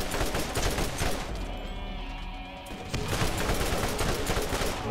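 Rapid machine-gun fire in the video game Borderlands, dense continuous bursts with a brief lull midway before the shooting resumes loud and close.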